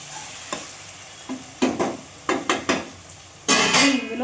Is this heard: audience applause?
no